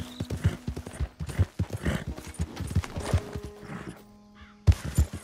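Horse hooves clip-clopping in Red Dead Redemption 2 in a quick, steady rhythm, close and fairly loud, with a brief quiet pause near the end before resuming.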